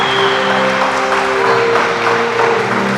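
Resort staff clap in welcome at the front entrance, a dense, loud, continuous patter of many hands over a low steady hum.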